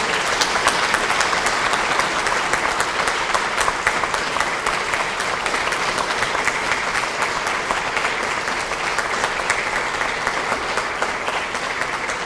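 Lawmakers at a People Power Party caucus meeting applaud Oh Se-hoon and Ahn Cheol-soo, a dense, steady roar of many hands clapping that holds at an even loudness for about twelve seconds without a break.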